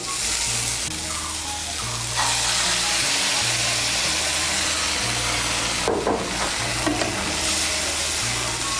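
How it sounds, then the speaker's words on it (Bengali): A spoon stirs boiled masoor lentils and ridge gourd with fried chopped tomato in a pan, giving a steady sizzle with rhythmic scraping strokes throughout, close and moderately loud. "ডাল আর ঝিঙেটাকে ভালো করে মিশিয়ে নেব।"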